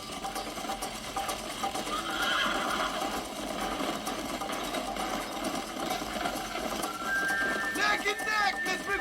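Horses thunder along in a neck-and-neck race in Red Dead Redemption, with steady hoofbeats and rushing movement throughout and a brief whinny near the end, under a dense game soundscape.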